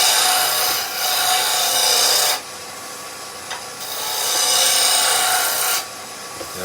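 Wood spinning on a friction-drive lathe while a tool roughs the blank down to round, giving a steady close scraping rasp in long continuous passes with brief lighter gaps between cuts.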